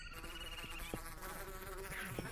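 Flies buzz steadily and close in the TestCraft video game, a continuous droning whine with a few short louder swells, and no talk over it.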